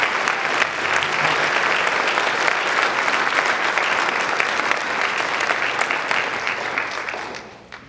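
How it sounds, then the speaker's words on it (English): A high school music awards audience applauds loudly and steadily, dense clapping sustained for several seconds before tapering off at the end. "So give them a round of applause."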